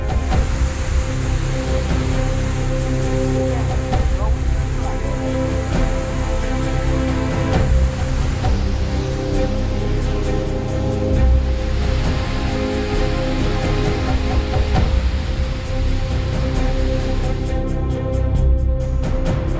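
Waterfall at a Norwegian fjord, a continuous broadband rushing roar, steady and fairly loud for the whole stretch, with no voices.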